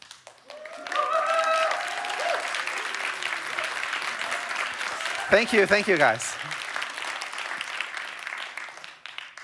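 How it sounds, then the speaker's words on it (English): Applause from a crowd at a smartphone launch event in London, steady clapping that fills the hall, while someone speaks over it partway through. "we'd love to give you a round of applause."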